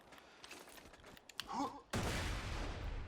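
A grenade goes off in Borderlands 2 during a grenade jump, with a sudden loud burst that gives way to a sustained roar after some clicks and creaks of game activity.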